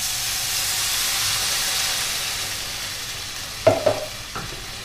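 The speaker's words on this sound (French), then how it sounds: "je vais rajouter du bouillon de volaille" Chicken broth goes into pasta in a hot pan for a pasta risotto with spring vegetables, a steady steamy hiss followed by a few sharp splashes and bubbling bursts near the end.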